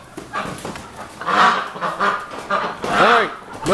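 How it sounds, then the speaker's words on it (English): Farm ducks and geese honk and call in a garden with straw, several loud nasal honks close by, strongest in two bursts, with some human voice mixed in. "Alright, what's going on here, little ducks?"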